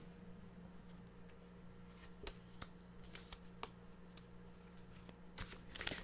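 Mantra cards are shuffled indoors, a faint, close riffling and shuffling with several sharp flicks and taps over a low steady hum.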